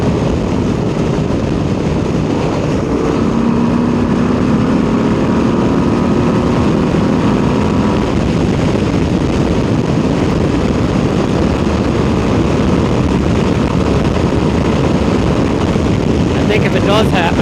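A 2026 Harley-Davidson Low Rider ST on a test ride, with a steady, loud engine drone and heavy wind rush throughout, the rider's voice faintly mixed in.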